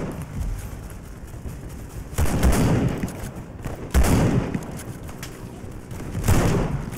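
A World War I artillery barrage and gunfire in the video game Over The Top, with booming shell impacts landing at intervals among crackling rifle and machine-gun fire, loud and busy, with faint voices underneath.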